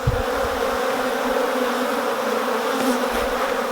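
Dense, steady buzzing of many honey bees close by during a two-frame hive split, a continuous droning hum that fills the whole clip without pause.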